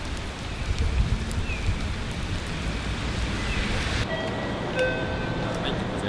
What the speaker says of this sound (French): Comme t'entends, ça fouette la pluie